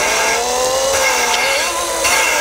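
A power drill whirs continuously at close range, spinning an engine valve, a steady high-pitched motor whine with slight shifts in pitch as it spins.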